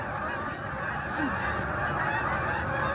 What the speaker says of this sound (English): geese were noisy.